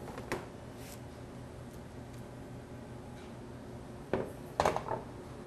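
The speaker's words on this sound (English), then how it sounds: "to get this cornbread out of this pan, I take it and do it just like this right here" Cornbread being knocked out of a pan gives a few light metallic taps and clatters, with a cluster of sharper knocks near the end over a steady room hum.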